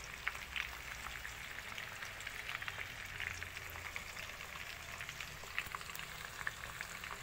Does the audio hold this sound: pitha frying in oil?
yes